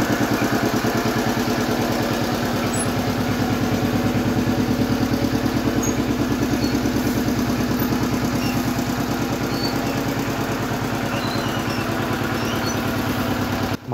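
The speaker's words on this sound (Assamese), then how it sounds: "সেইটো কাৰণে ট্ৰেক্টৰেৰে মাৰণ মাৰি আছোঁ" A tractor running continuously during rice threshing in a farmyard, a loud, close, steady chugging engine with a rapid regular pulse and clatter that holds unchanged throughout.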